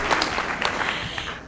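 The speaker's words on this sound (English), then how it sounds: "Let's give a round of applause for our new 7th graders." A school board meeting crowd gives a short round of applause for new seventh graders, a brief patter of clapping hands from a modest group.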